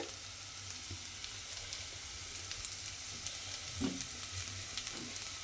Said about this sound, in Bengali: আদা রসুনটা দিয়ে কিন্তু এর সঙ্গে আমি একটু কষিয়ে নেব